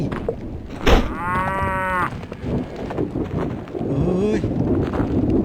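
Video game cattle moo loudly twice in Survivalcraft 2, one long low call then another, with wind buffeting the microphone and faint background noise throughout.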